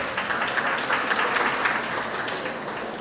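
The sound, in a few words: members' round of applause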